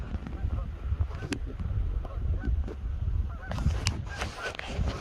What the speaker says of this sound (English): just chased after some geese